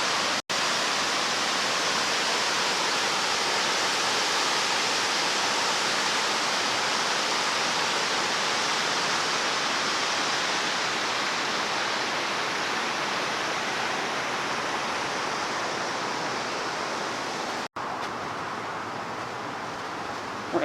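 Broad, steady rushing of a low river flowing through Grand Rapids, Michigan, a constant wash of water noise heard close and alone for the whole stretch.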